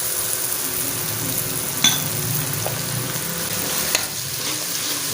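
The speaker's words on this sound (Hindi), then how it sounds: "इसको भी साथ फ्राई कर लेते हैं शुरू के लिए, ताकि इसका भी कच्चापन ख़त्म हो जाए।" Crushed ginger and garlic frying in a pan for masoor dal, a continuous close hiss of hot oil with a couple of brief clinks from stirring.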